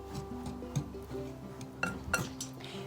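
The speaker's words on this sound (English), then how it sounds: "have 2 cups of flour, a cup of sugar, 4 teaspoons of baking powder, a half a teaspoon of salt, and we're just going to mix this all up" Flour, sugar, baking powder and salt being mixed in a bowl for coffee cake bread: a utensil scrapes and clinks against the bowl in a few light, irregular taps over a soft, steady background, with no talking.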